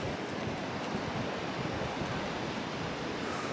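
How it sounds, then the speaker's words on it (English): Waterfall beside an old mill near Warwick Castle in January, pouring into a large river, with a steady, loud, broadband rushing roar that holds constant throughout, with no voices. "That's one hell of a waterfall, I'll give it that."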